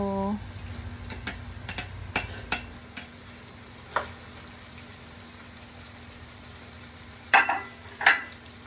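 Fried shrimp being stirred into arroz valenciana in a pan gives soft sizzling under a steady background, with scattered scrapes and taps of the utensil and louder knocks near the end.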